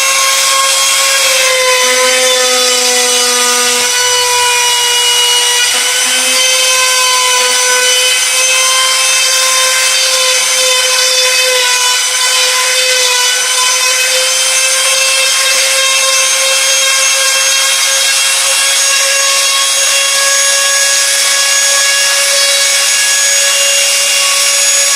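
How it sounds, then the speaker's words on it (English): A trimmer router guided by a door hinge jig cuts a hinge recess into a timber door, a loud, close, continuous high-pitched motor whine with shifting cutting tones throughout. "keep pressure on the jig through your trimmer to make sure it doesn't skip out"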